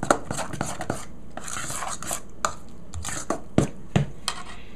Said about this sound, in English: You stir this up.